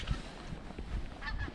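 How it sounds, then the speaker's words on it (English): Geese flying in V formation give a few faint, distant honks in a brief, quiet moment with no one talking. "The birds are flying in a V formation."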